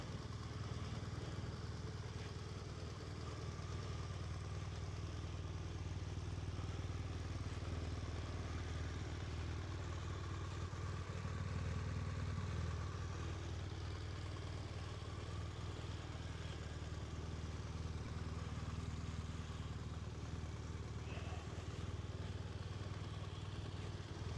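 A BMW R1200RS motorcycle with 19,000 km on it runs close by, its engine holding a steady, even idle throughout with a faint mechanical clatter and no rise in revs.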